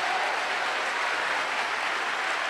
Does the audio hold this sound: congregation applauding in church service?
yes